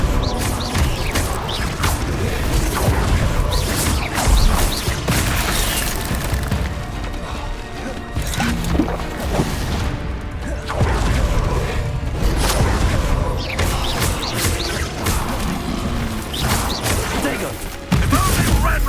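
Fire spell cast during combat in Hogwarts Legacy, a steady roar of whooshing flame and crackling impacts mixed with booms and clattering game effects, running loud and continuous under a busy battle soundscape.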